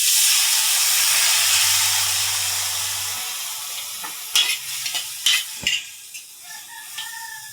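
Sliced chicken liver fries in a hot pan as soy sauce is added, a bright hissing sizzle that fades, then a few sharp clinks and scrapes of stirring, with no talking.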